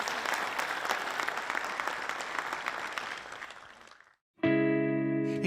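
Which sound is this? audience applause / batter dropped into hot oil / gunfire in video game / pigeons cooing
audience applause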